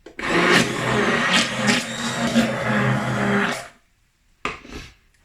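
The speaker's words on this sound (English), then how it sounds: "I'm gonna use my stick blender to blend this." A stick blender whirs steadily for a few seconds blending vegan caramel sauce with miso, stops, then gives one brief final burst.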